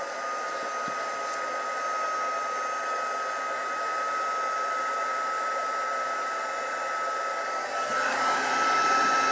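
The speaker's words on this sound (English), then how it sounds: "I'm just going to put the heat gun on. And I've got it on the highest setting." Heat gun blowing on its highest setting during a stamping craft, a loud steady whooshing hum close by with a thin whine throughout.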